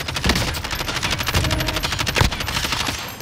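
Rapid automatic gunfire in Call of Duty: Modern Warfare, loud and close, firing in a continuous fast burst across the whole stretch with sharp individual cracks.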